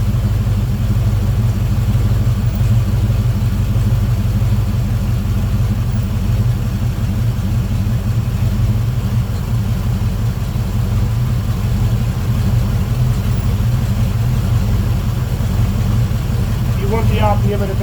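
Volvo Penta 454ci V8 boat engine idling steadily at low RPM, a continuous deep rumble throughout, close and loud, with a brief higher whine near the end.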